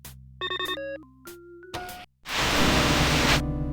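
Electronic video phone ringing in the 1996 PC/DOS game The Pandora Directive: a run of short synthesized tonal chirps and beeps at moderate level, then a burst of loud, broad hissing static that holds steady to the end.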